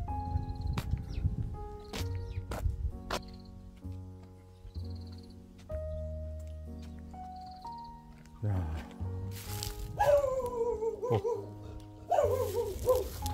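A village dog in a stone-walled mountain village barks and yelps in short bursts. The calls come near the end, among footsteps and nearby talk.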